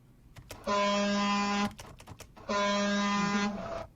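Two long, loud honks blare in sequence, each held for about a second with a brief gap between them, against a quiet background.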